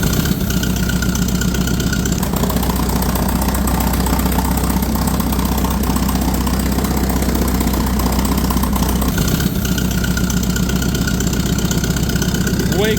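A Ford 960 tractor engine idling with a newly fitted muffler, a steady low, even chug that runs unbroken for the whole stretch at close range.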